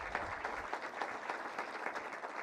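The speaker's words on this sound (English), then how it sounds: "can we just give a round of applause for this beautiful luncheon?" Guests at a Rose Queen luncheon applaud in a sustained, even round of clapping from a sizable crowd, heard at a moderate distance in a roomy space.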